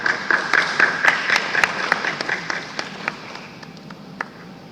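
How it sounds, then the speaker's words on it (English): Audience applause at a corporate awards event, a steady close crowd of clapping hands that stays dense for several seconds and then gradually thins out. "Let's have a huge round of applause for Mr. Ashwin Pune from Ad Factors Advertising and PR."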